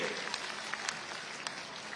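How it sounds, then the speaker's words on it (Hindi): Steady applause from an audience at a Bhopal political event honoring women beneficiaries of a welfare scheme, a dense, even patter of clapping that holds at moderate level for the whole stretch with no voices on top. "जोरदार तालियां लाडली बहनों के लिए"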